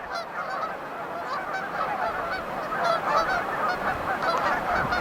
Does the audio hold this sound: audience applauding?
no